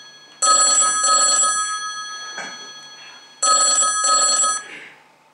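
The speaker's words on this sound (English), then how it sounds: "The phone was ringing, and my dad answered it." A telephone bell rings in two double bursts, loud and close, with a short quiet gap between the pairs.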